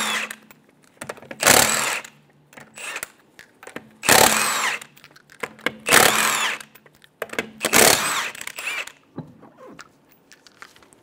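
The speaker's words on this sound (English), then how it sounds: "Using a 19 millimeter socket, remove the 5 lug nuts." A power tool with a 19 mm socket spins the five lug nuts off the rear wheel of a 2012-2020 Chevrolet Sonic in four loud, close bursts of whirring and rattling, separated by short pauses and followed by softer clicks and handling noise.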